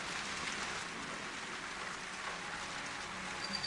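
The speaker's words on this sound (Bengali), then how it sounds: "বৃষ্টিটা থামার নামও নিচ্ছে না" Soft, even rainfall hisses continuously in the background, faint and steady, with no voices or other distinct sounds.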